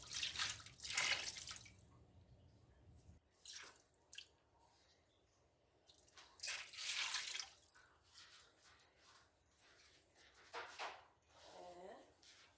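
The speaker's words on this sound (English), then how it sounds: "I'm just going to be adding in some water" Water splashes and pours into a pot of meat being cooked for palm butter sauce, in short bursts of pouring and dripping, with someone talking quietly in between.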